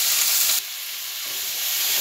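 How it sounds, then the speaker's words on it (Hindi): Pumpkin with chopped green chilli, turmeric and red chili powder sizzles and hisses steadily in a hot pan while being stirred, a loud, continuous frying sound that dips slightly partway through. "अच्छी तरह से इसे चलाते हैं"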